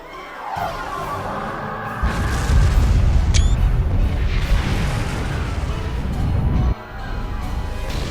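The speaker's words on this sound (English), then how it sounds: "Direct hit! Cannons on all decks!" Heavy booming blasts and rumbling impacts of starship cannon fire in Star Trek Online roll continuously, loud and close, with a brief sharp zap in the middle of the barrage.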